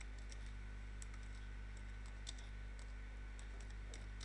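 Soft, irregular keystrokes tap on a computer keyboard in a quiet room, several quick clicks scattered over a low steady hum, no voice present.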